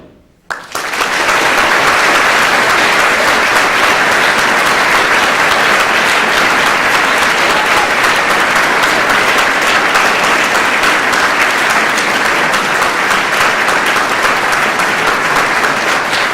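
Loud, sustained applause from a festival audience at the 26th edition of the event, paying tribute to a late artist. It starts abruptly after a brief quiet moment and continues steadily, dense and close, with no voices.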